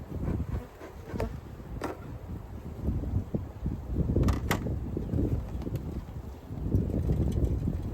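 Honeybees swarm around an opened beehive during a spring inspection, a dense low buzzing hum with wind rumble on the microphone and a few brief clicks and knocks of hive parts.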